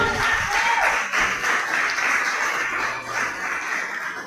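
A church congregation claps together in a dense, steady patter of many hands, fairly close and continuous for a few seconds with a little talk underneath.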